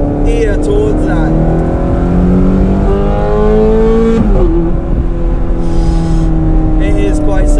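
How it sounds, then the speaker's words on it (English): A Ferrari's 510-horsepower naturally aspirated V8 revs hard and loud, its rising harmonic wail climbing through the gears with a brief dip near the middle, heard from inside the car. "you get that naturally aspirated V8 noise"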